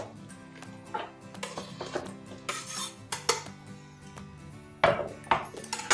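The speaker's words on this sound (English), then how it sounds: "We're going to slip this into the pot here." Diced tomatoes tipped into a cooking pot for a vegan roti salad, with a series of close metallic clinks and scrapes of utensil against cookware, sharpest near the end.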